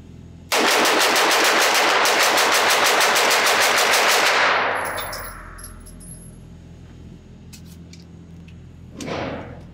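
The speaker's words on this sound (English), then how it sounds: "I'm going to load up one of these 23 round magazines and essentially just do a mag dump. It's just fun to shoot fast." A Smith & Wesson M&P9 Spec Series pistol emptied from a 23-round magazine in one rapid, loud burst of dozens of evenly spaced shots lasting about four seconds, followed by fading echo and a brief thump near the end.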